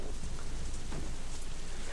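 Steady rain falling in the side-scrolling survival game Deadlight, a constant dense hiss of downpour filling the scene with no voices over it.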